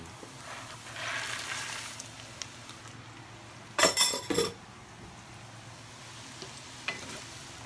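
Anchovies (dilis) stirred while frying in a pan give a steady soft sizzle, with a cluster of close, sharp utensil scrapes and clinks against the pan around the middle and a single clink near the end.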